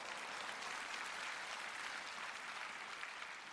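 Audience applause at a church prayer gathering, a dense, steady wash of clapping that holds at even loudness for the whole stretch with no speech over it.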